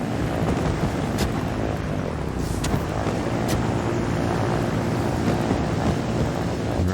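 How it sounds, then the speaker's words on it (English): A steady, dense rotor-and-engine roar from a helicopter flying in the building game Trailmakers continues unbroken and loud throughout, with no talking over it. "We can pick this up pretty handily with the helicopter and turn it in."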